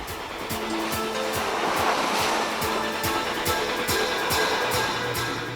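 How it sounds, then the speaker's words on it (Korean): Sea waves surge and wash steadily around a small pilot boat beside a large ship at a harbor approach, a continuous loud roar of surf and spray with a recurring low rhythmic thump throughout. "멈칫거리다 보면 한순간에 파도가 보트를 밀어낸다"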